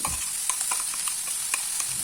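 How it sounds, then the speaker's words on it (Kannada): Ground paste going into a hot pan of fried ridge gourd and onions, with a continuous loud sizzle and quick, regular stirring scrapes and clinks, close up and without talk. "ಇದು ಮಿಕ್ಸ್ ಆದಮೇಲೆ ಇವಾಗ ರುಬ್ಬಿಟ್ಕೊಂಡಿರುವ ಪೇಸ್ಟ್ನ ಸೇರಿಸ್ಕೊಳ್ತಾ ಇದ್ದೀನಿ"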